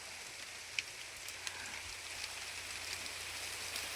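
Heavy rain falls on rocks up in the hills, a steady hiss of downpour with a few sharper drops ticking nearby, no voices.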